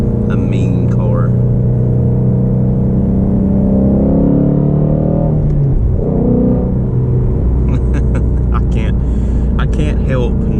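A Ford Mustang GT350 with a flat-plane crank V8 revs close and loud, its deep rumble climbing in pitch, peaking, then dropping back to a heavy idle.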